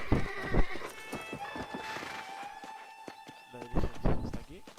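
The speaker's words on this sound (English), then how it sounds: "Hace el típico sonido de las películas de cuando un caballo anda por encima de la madera" Horse hooves clopping over wooden boards in the Red Dead Redemption video game, a steady series of near, loud hollow hoofbeats with a horse whinny and a person talking over them.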